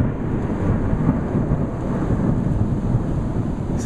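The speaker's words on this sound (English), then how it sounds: "There's a huge storm approaching." Thunder from a huge storm approaching in Massachusetts: a continuous deep rumble, heavy and fairly close, blended with a steady wash of wind and rain noise, with no talking.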